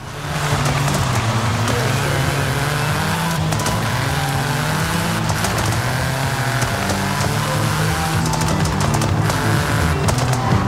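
A 2021 Toyota Yaris GR driven in Forza Horizon 5 drones steadily at close range, its exhaust throwing out scattered sharp crackles and pops over the continuous engine note.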